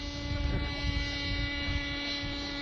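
A helicopter flies at a 1995 New Hampshire airshow, chasing balloons in a balloon-breaking event; a steady, fairly distant rotor and engine drone with a constant tonal whine, no talk.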